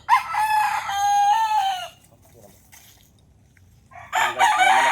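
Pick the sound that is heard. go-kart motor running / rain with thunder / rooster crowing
rooster crowing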